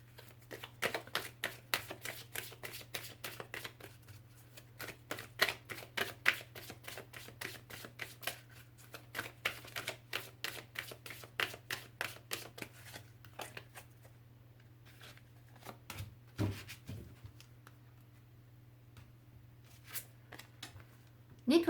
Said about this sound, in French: Une petite carte des anges aussi là.